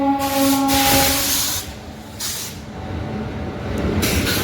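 A Howrah–Chakradharpur express rumbles loudly past Tikiapara station at night, steady wheel-and-rail roar with a brief air-brake hiss and tonal hum early on, close and continuous throughout.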